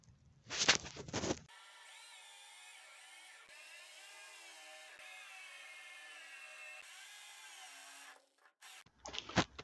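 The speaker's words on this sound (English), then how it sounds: "So we'll get them drilled out." A drill whines steadily for several seconds while cutting out spot welds on a Mini. Short, louder bursts of clatter come just before and just after it.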